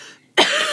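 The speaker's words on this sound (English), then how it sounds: "we are going to be dealing with probably coughing a bit" A single short, sharp cough bursts out close and loud after a brief quiet moment, from someone who has been really sick.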